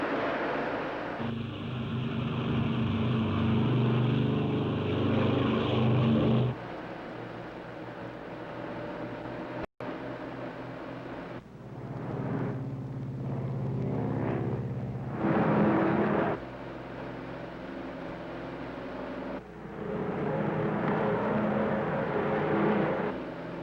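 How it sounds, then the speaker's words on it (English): Propeller airliner engines of 1953 run up to takeoff power, a loud continuous droning roar with shifting tones that drops and surges across the run, heard from inside the aircraft. "Ready for takeoff. Takeoff power. Takeoff now."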